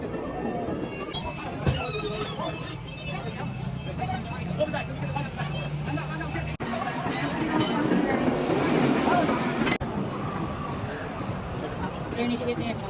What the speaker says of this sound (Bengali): ট্রেন এসে গেছে, আমরা উঠে যাবো ট্রেনে।